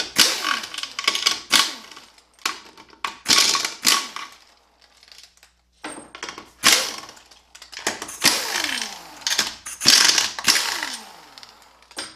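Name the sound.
ratchet removing 13 mm bolts from transmission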